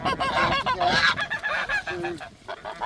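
Geese honk repeatedly at close range in a muddy vegetable garden, with several overlapping nasal calls in quick succession against outdoor noise.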